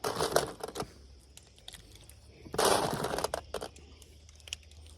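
Gunfire during shooting training: irregular sharp cracks and short rapid bursts of shots, some clustered together, with quieter gaps between.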